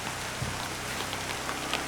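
Rain falls steadily at a forest campsite, a dense, even hiss with scattered drops tapping nearby, constant and fairly loud, with no talk.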